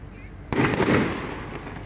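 A firework mine shell bursts suddenly at a public fireworks show in Delaware City, one sharp loud boom followed by a fading crackling rumble.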